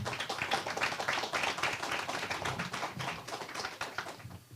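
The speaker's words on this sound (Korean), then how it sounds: "큰 박수로 맞아주시기 바랍니다" Audience clapping to welcome a candidate for Gangwon provincial education superintendent at a press conference, a dense run of hand claps sustained throughout, fairly close and steady, with no voices over it.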